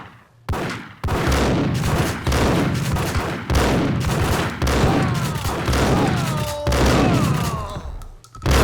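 Rapid, repeated gunfire from the Max Payne video game, loud bursts of shots hitting hard one after another for several seconds, with booming thuds and ringing echoes under the barrage.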